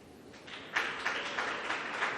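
A crowd at the 2021 US Open Pool Championship applauds a shot with a faint, distant ripple of clapping that swells slightly and keeps going at low level.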